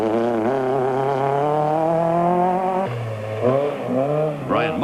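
Rally car engines in tight forest stages, with a Class B Toyota, Volkswagen Golfs and a BMW in the field: a loud revving engine holds high, drops abruptly, then blips through gear changes, close and dominant.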